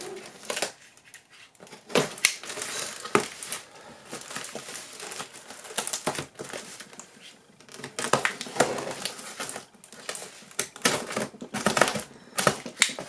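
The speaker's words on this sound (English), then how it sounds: "So I'm going to open the box." A mailed cardboard box being opened by hand, with irregular scraping, tearing and crinkling bursts of cardboard and packing material, close and fairly loud, with brief pauses between handling noises and no talking.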